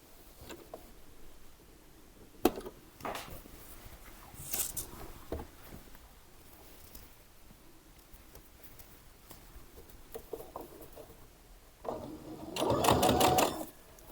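A sewing machine hems stretch elastane fabric on a pinned kimono-style top: quiet handling and small clicks first, then a loud, fast stitching burst of about two seconds near the end.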